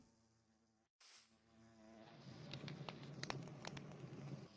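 Bees in Minecraft, a soft, low buzzing hum that swells after a brief cut, with faint clicks and patter layered in, quiet and close.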